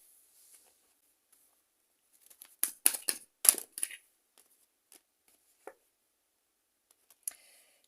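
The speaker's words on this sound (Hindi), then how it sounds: "कुछ कार्ड्स ले लेते हैं देखने के लिए" Tarot cards are drawn and handled at close range: faint papery flicks and shuffling taps cluster in a short burst, then a few sparse soft clicks over near-silence.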